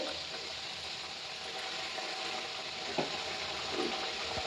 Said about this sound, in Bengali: এটা আমি একদম লোতে রেখে ভেজে নেব